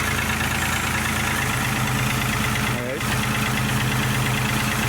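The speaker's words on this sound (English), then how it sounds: "I'm going to fire up the car and let it kind of get it to operating temp." A 1996 Pontiac Grand Prix with the 3.1 V6 idles steadily and close by, a continuous low rumble with a fine ticking rhythm, briefly dipping for a moment midway before settling back.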